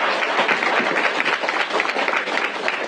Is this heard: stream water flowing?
no